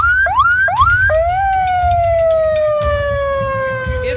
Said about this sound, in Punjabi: ਸਾਇਰਨ ਜਿਸ ਤਰ੍ਹਾਂ ਦਾ ਲੱਗਿਆ ਹੋਇਆ ਸੀ